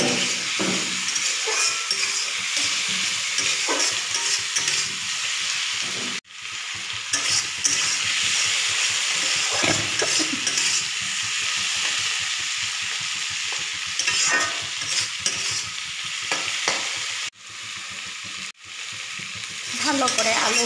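Tomatoes and green chillies fry with potatoes in a pan, producing a continuous close sizzle broken by frequent scraping and clinking of a spatula stirring against the metal, with brief drops in level.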